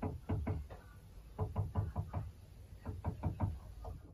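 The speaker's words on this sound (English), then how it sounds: "these birds wake me up with like loads of like knocking and scratching" Birds nesting in an attic make irregular clusters of dull knocks and taps, close and muffled, in quick bursts separated by short pauses.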